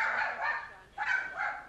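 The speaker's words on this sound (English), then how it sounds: "it's no coincidence that on cue the dog barks" A dog barks indoors in two bursts of clear, mid-pitched yapping barks, moderately close, with a short pause between them and no talk over them.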